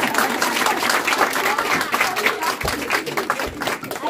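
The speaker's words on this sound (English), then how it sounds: "This needs a more thunderous applause" A seminar audience gives loud, thunderous applause, a dense continuous roar of many hands clapping close by that holds steady for the whole stretch, with a few low thumps underneath.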